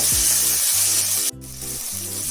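Tomatoes and coriander leaves sizzle in oil in a pan for veg kuska, a steady broad frying hiss with a brief stir-like clatter partway through, no voices.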